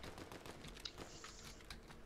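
Gunfire in the video game Fortnite Chapter 5 Season 2, a faint, distant-sounding cluster of rapid shots blending into steady game ambience, with no voices over it.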